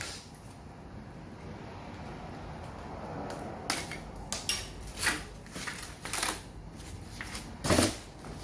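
Small cutters snipping through e-bike packaging, a series of faint, crisp snips and rustles at close range over a steady background hiss, coming in irregular bursts.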